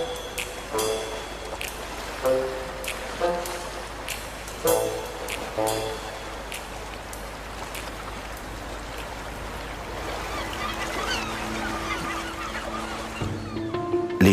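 Young gulls call repeatedly for food, a chorus of harsh, insistent cries in bursts over a steady outdoor wash, fairly close and continuous throughout.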